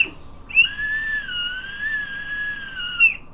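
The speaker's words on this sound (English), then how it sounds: "I blew the whistle." A black help whistle blown in one steady, shrill blast lasting about two and a half seconds, close and loud, with a slight waver in pitch and no talking.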